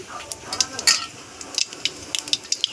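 Cumin seeds and two bay leaves hitting hot oil for a crab curry, a light crackling sizzle with quick popping bursts and spoon scrapes, close by.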